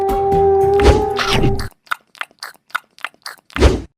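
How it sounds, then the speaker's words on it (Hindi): Crunchy chewing while eating: a louder burst of biting and munching, then a series of short, sharp crunches, ending with one more heavy bite. "इस बिल्ली को खाकर मेरा पेट ही भर गया।"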